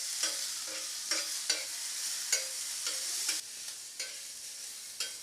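Maggi noodles tossed in a pan over a high flame, with a steady bright sizzle broken by regular scraping and clattering strokes about once a second, close by.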